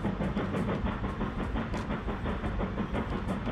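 Steam locomotive in the train simulation game Transport Fever 2, a steady dense rumble of chuffing and rolling wheels with faint clickety-clack, continuous and fairly loud with no talk over it.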